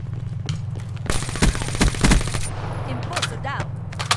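Rapid bursts of shotgun and automatic gunfire in a video game match, loud and clustered in the middle with brief pauses, with game sounds around them.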